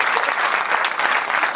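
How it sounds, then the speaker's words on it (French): Steady, dense audience applause at a stand-up comedy show, a continuous wash of many hands clapping without a break through the short stretch. "C'est bien, on les applaudit vraiment parce que..."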